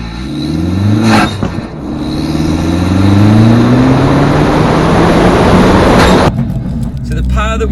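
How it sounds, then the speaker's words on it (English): An Abarth 595 fitted with a Forge Motorsport induction kit revs up loud and close, its intake note climbing through the gears with a sharp whoosh partway through, while people talk over it. "Induction noises as well from that Forge Motorsport induction kit"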